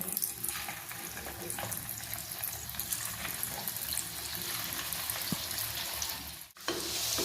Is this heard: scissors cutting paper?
no